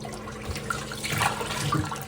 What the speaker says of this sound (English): I'm just rinsing the chicken off.